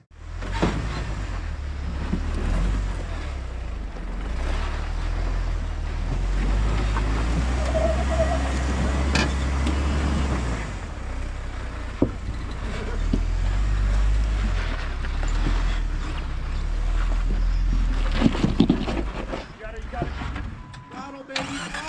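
An off-road vehicle's engine rumbles low and steady on throttle along the Spring Creek trail, surging in places under wind buffeting and people talking.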